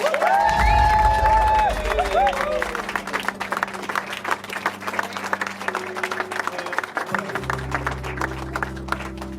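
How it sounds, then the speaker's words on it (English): An audience at a wedding celebration for the newly married couple breaks into loud, sustained applause and cheering right at the start, fading into scattered clapping and crowd murmur. "One more round of applause for Mr. and Mrs. Oak, please."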